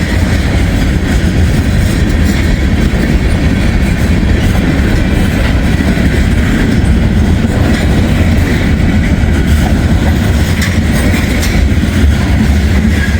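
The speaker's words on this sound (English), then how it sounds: "It's a big heavy train." A long, heavy freight train with every car loaded rolls past at close range: a continuous loud rumble with steady rail clatter and clickety-clack throughout.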